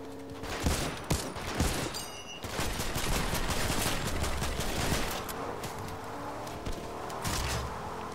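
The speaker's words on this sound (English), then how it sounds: "Hey, someone's shooting." Rapid gunfire in the Fortnite video game crackles through dense automatic bursts and overlapping shots, loud and sustained with only brief gaps.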